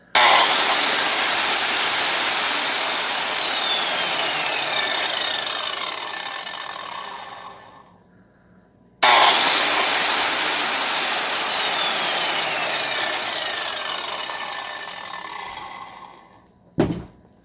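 Black & Decker WildCat 7-inch industrial angle grinder with a 15 amp motor, rated 6,000 RPM, loud and close, spinning up to a steady high-pitched whine, winding down, then starting and running again before cutting off.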